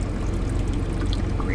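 Water pours steadily into a Euhomy refrigerator and ice machine combo unit as it fills, a faint, even trickle with no talk over it.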